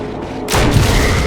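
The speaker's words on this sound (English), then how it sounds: "she grabbed the grenade launcher and wasted Forrest with it." A grenade launcher goes off in the Resident Evil Remake game, a sudden loud boom about halfway through that leaves a sustained rumbling blast filling the rest of the short clip.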